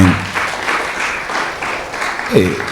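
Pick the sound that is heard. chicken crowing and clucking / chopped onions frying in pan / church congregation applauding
church congregation applauding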